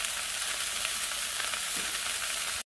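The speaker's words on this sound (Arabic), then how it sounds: "بنتابع شوي الاخطبوط عشان نقلبه على الوش الثاني لما يتحمر الوش ده يا جماعة." Octopus marinated in olive oil and date vinegar sizzles steadily while grilling in a pot oven, a continuous close crackle that cuts off abruptly at the end.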